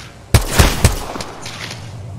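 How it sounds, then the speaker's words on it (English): Gunfire in Apex Legends: three sharp, loud shots in quick succession near the start, then a lighter crack or two and a steady hum of game ambience with no voices. "I'm taking fire."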